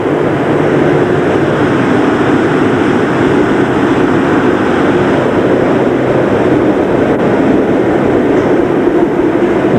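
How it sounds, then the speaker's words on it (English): Tandy subway PCC cars in Fort Worth, with homemade bodies on a free underground shuttle, rumble steadily throughout, a loud continuous rail roar with a faint click near the end. "The main interest in Fort Worth, however, lies in the Tandy subway."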